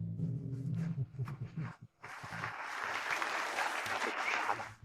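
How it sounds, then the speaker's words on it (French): A gala audience breaks into sustained applause after a voice speaks, the clapping dense and steady for several seconds. "Applaudissons chaleureusement."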